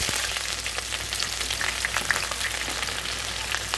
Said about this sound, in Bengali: এরপরে আমি গরম তেলের মধ্যে আমি পেঁয়াজ কুচি দিয়ে দিলাম।